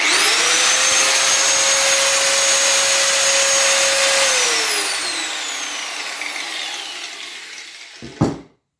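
Angle grinder switched on, a loud high-pitched whine running at steady speed that then winds down slowly after switch-off, ending with a brief clunk, no talk.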